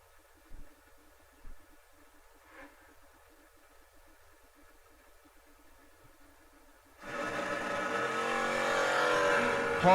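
Drag race cars launch and accelerate down the strip, a sudden loud broadband engine roar bursting in after a quiet stretch with a few faint thumps, then sustained and building to the end.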